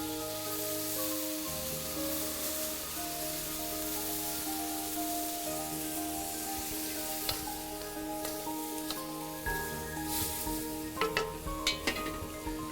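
Red wine poured into a hot pan with paprika and garlic hisses into a steady loud sizzle, joined later by clinks and scrapes of a utensil stirring against the pan, with no voices.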